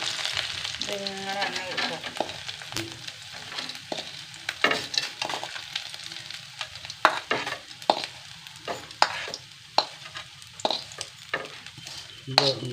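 Food frying in hot oil for a curry, with a continuous sizzle broken by sharp stirring and scraping clicks from the pan, close up and with no talking.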